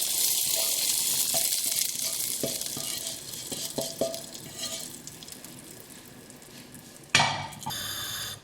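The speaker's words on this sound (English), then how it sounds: "Hear the sizzle." Garlic and chilli sizzle in hot oil as they temper a pot of Bangladeshi tarka dhal, a soft steady hiss with faint clinks. A louder burst of sizzling comes near the end.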